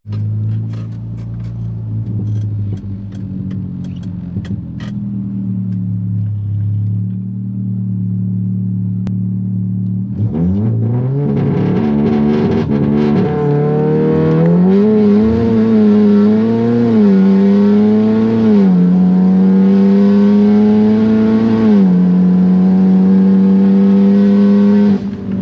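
A VW Golf drag car at Crail Raceway, heard from the passenger seat, idles with a low, even drone, then launches into hard acceleration, its engine note climbing and dropping through several gear changes, loud and close.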